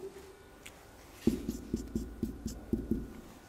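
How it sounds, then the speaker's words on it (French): Chalk or marker writing examples on a classroom board, a series of about eight quick, distinct taps and strokes in an irregular rhythm, close and fairly quiet, with no talking. "On va écrire quelques exemples."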